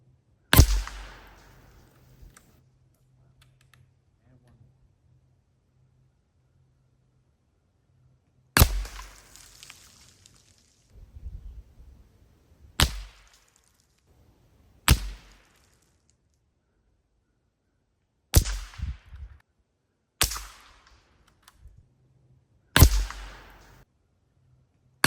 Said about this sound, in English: last up is the Lisle Commando Carbine